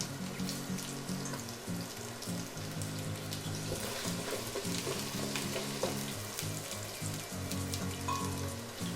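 Potatoes frying in extra virgin olive oil in a pan, a steady dense sizzle with crackling pops throughout, close and continuous, no talking.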